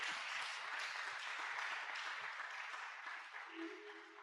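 A church congregation at a Sunday thanksgiving service claps and applauds in a dense, sustained wash of hands that tapers slightly toward the end, with faint voices mixed in.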